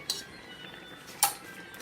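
A utensil stirs a piece of golden red butter in a cooking pot while callaloo is prepared, giving two light metallic clinks against the pot, quiet and close.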